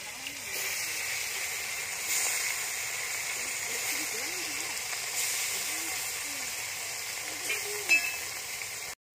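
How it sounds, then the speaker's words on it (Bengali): Fish frying in hot oil in a pan, a soft continuous hiss and sizzle with faint crackles, steady and fairly quiet, with a brief clink near the end. "গরম হয়ে গেছে, এবার মাছ দিয়ে দেবো।"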